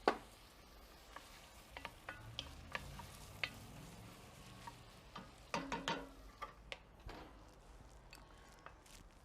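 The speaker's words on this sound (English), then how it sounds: "We have to fry the onions a little bit more until they're a little bit glazed." Onions frying in oil in a pan on a Big Green Egg grill in Greece, a soft steady sizzle under scattered light ticks and stirring clinks, fairly faint and close.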